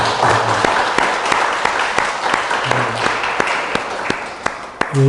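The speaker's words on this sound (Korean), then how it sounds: "우리 교사들을 위해서 한번 박수 한번 여러분 좀 해주십시오" A church congregation at Sunday worship applauds its teachers with sustained, even clapping filling the room, a few sharp individual claps standing out near the end, while a voice murmurs faintly underneath.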